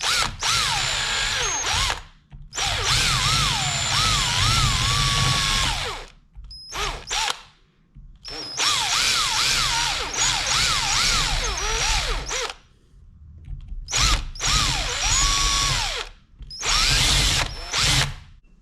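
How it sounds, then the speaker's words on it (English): A power drill with a 3/16 bit bores out belt clip rivets on a workpiece held in a vise, whining loudly in several long bursts with rising and falling pitch, separated by short pauses. "I'm just going to drill right in the center of that"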